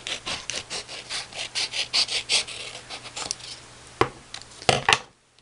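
Scissors trimming the edges of magazine paper for a homemade wallet, a steady run of close, dry rasping cuts followed by a few sharper snips and a brief clack before going quiet.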